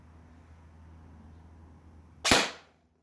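A single sharp airsoft AEG shot fires through a chronograph near the end, after a quiet stretch of faint background hum.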